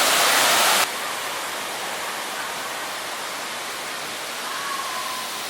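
Steady broadband roar of a waterfall in downtown Rochester, New York, heard from an overlooking platform; the rushing wash is loudest in the first second, then continues slightly softer and unbroken.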